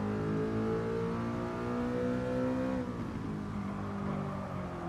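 A V10 race car engine in GT Sport screams loud and close, revving high and steady before the pitch drops sharply as it shifts, then climbs again, with no talking.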